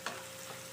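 Garlic frying in a pan gives a brief, steady, close sizzle, heard alone.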